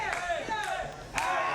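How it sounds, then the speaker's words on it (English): A wrestling crowd cheers and shouts for AJ Steele at an NWA tag match, a steady mid-distance roar with rising voices and swells of noise throughout. "Crowd getting behind AJ Steele a little bit here in this one."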